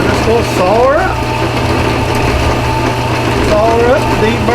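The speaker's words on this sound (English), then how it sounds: "we're just going to saw her up." A saw held in a saw fixture cuts metal tubing for a race car roll bar camera mount, giving a steady motor drone with shifting whining tones throughout.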